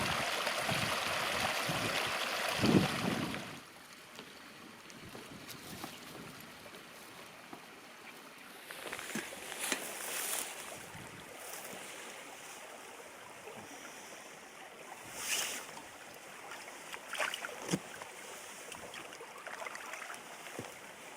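A river flows by a wild camp on Dartmoor, heard as a soft, continuous rushing with faint trickling and occasional brighter splashes, fairly quiet and with no talk.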